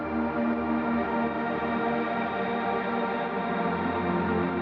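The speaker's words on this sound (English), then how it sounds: "I also have this alternate version with different reverb, which I've sort of baked into the audio file" A synthesized music pad with heavy reverb baked in, sustained and dense, forming a steady, lush wash of tone throughout with no voices.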